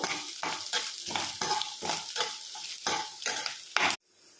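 Ingredients for coconut rice sautéing in a pan until golden, with a repeated rhythmic scraping stir about every half second over a steady sizzle, close and fairly loud, stopping abruptly near the end.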